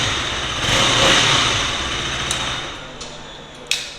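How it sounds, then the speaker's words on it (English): A 2022 KTM RC200 motorcycle engine revs up in a rising swell that peaks and then falls back toward idle, close and loud, followed by a few sharp clicks near the end. "Let's rev this a little bit."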